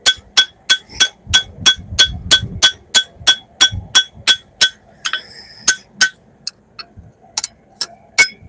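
A sword blade is hammered on an anvil during forging: a fast, regular series of ringing metallic strikes close by, about three blows a second, with brief gaps and no talk.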